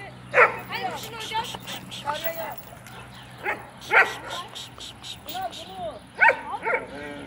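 Turkish mountain dogs such as Kangal, Akbaş or Karadeniz breeds bark and yip outdoors in sharp, scattered bursts, several loud and close, with people talking between and beneath them.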